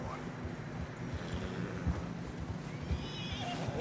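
A horse whinnies under a bed of steady hoof clops on snowy ground in the Red Dead Redemption 2 video game, close and moderately loud, with a low continuous rumble beneath.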